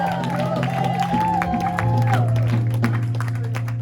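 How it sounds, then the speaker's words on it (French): A church congregation cheers and applauds its pastor, a dense, sustained roar of crowd noise with raised voices and scattered claps running steadily throughout. "sous les acclamations et les cris de joie"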